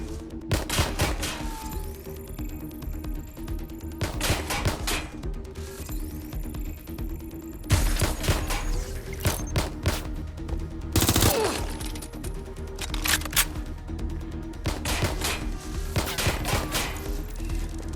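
Gunfire in the video game Watch Dogs: Legion: rapid automatic bursts and single shots crack in repeated clusters over a steady low hum, loud and close, with no voices.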